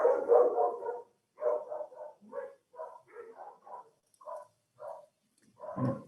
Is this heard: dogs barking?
yes